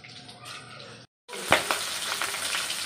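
Fish rubbed with salt and turmeric frying in hot oil on a small gas stove, a loud close sizzle with sharp popping crackles, broken by a brief silent gap before resuming.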